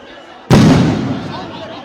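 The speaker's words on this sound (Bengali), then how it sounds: "এখানে সাউন্ড গ্রেনেড নিক্ষেপ করা হয়েছে" A sound grenade explodes during a street protest where police face demonstrators: one sudden, loud, close blast followed by a long echoing tail that slowly fades.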